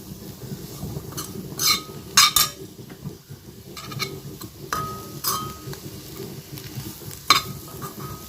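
Beans and potatoes with homemade chili powder sauté in a pan, with steady low sizzling, stirring scrapes and a few sharp clinks of a utensil against the pan, close and moderately loud throughout.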